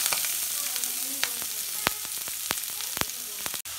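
Sliced onions fry in oil in a pan for a mutton gravy, making a constant close sizzle punctuated by sharp, irregular spattering crackles.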